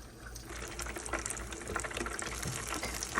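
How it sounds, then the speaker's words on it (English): Buffalo chicken egg rolls bubbling in hot frying oil, a steady dense sizzle with crackling pops throughout, close and moderately loud with no talking. "They're still bubbling away, you hear them?"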